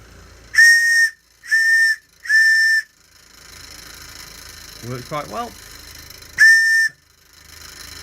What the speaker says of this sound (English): So, nice little brass bullet whistle.